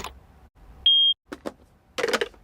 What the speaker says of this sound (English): So, Peppa and George, every time you hear a beep, I would like you to put a block in the bucket, OK?